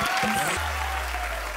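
Studio audience applause on a Hindi TV comedy show, a short burst of broad clapping at steady loudness with a host's voice over it and a low hum underneath.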